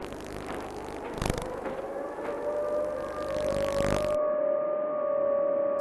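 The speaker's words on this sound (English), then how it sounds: "Storm sirens." Storm warning sirens wail over a blustery winter storm, a long steady tone rising and holding, with a few thuds and rumbles beneath before the background drops away and the siren tone carries on alone.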